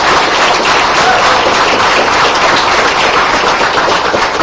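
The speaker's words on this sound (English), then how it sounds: "Let's have a round of applause, not just for him, but for all the military in this country." Dense, steady applause from a large audience at a talk on secular strategy fills the whole stretch, loud and continuous with no voices breaking through.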